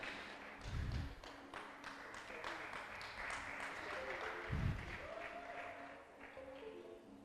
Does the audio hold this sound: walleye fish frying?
no